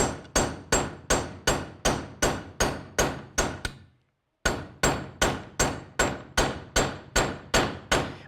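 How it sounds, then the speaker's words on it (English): A hammer pounds hardened steel caps back into place during a trail repair: a fast, steady run of sharp metallic clanging blows, loud and close, broken by a brief pause before the same rapid strikes resume. "So you just got to pound these back in."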